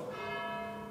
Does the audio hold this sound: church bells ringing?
yes